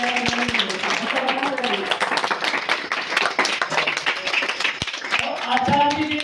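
An audience at a Hindi spiritual discourse claps together in a sustained, dense burst of applause that lasts several seconds, with voices faintly audible underneath.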